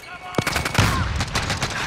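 A Bizon submachine gun fires rapid automatic bursts in a shooter video game. The shots form a steady, loud rattle that runs through the whole moment alongside other game sounds.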